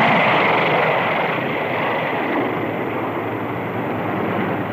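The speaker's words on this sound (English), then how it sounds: "This light bomber makes a very stable bombing platform." A B-45 jet bomber's broad, steady roar fills the air, loud and continuous, with a faint high whine above it and no voices.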